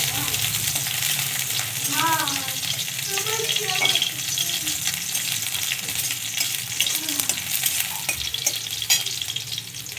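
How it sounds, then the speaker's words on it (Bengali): Dried red chillies and a few garlic cloves fry in hot oil with a constant, busy sizzle and crackle. Occasional clinks and scrapes from stirring rise over it, close up, with some faint speech in the background. "এগুলোকে লাল লাল করে একটু ভেজে নেব।"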